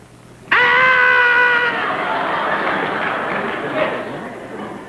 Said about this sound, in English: Would I be interested in knowing who's doing the screaming?